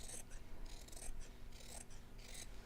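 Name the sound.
scissors cutting out fabric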